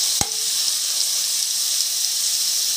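Chicken pastil frying in a pan of oil, a steady bright sizzle throughout, close and loud, with a single clink of a utensil near the start and no talking.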